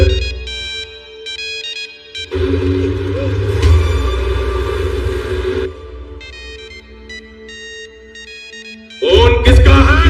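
A mobile phone ringtone rings loudly in a film scene, a repeating electronic melody that stops, resumes with a fuller pattern, then briefly returns at the end.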